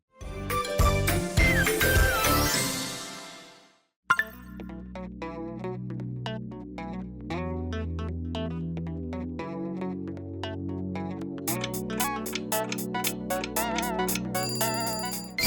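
The Chupa Chups audio logo: a dense, bright burst of sound, then a tinkly, bell-like jingle melody over a steady musical backing.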